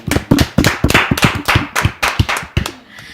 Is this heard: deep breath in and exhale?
no